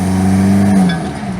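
A Chevrolet S10 pickup with a 2.2-liter turbo diesel pulls at half throttle, its engine giving a loud, close, steady drone that climbs slightly and eases off near the end.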